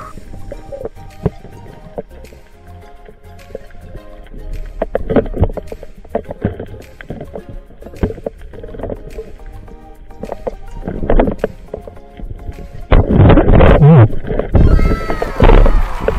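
Paddles dip and splash rhythmically in water at night, with dripping and knocking against a boat, and a louder churning of water near the end.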